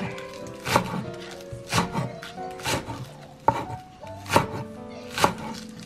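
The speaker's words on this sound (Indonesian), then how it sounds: "Dipotong kecil-kecil ya, daun bawangnya." Spring onions are chopped into small pieces with a knife on a board, giving about eight close, crisp thuds in a loose irregular rhythm, each followed by a short rustle, with no talking.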